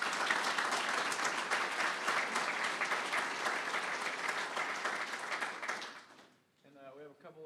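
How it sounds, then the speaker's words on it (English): A conference audience applauds after a rail-corridor presentation, sustained clapping from a crowd lasting about six seconds before fading, followed by a voice starting to speak. "Let's give a quick round of applause for the presentation."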